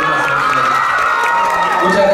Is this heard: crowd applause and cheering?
yes